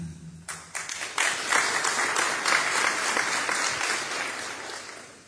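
An audience at a community event bursts into applause after a short lead-in, the clapping swelling quickly into a dense, even roar that holds for several seconds before easing slightly.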